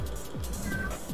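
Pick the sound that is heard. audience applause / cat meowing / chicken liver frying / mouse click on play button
cat meowing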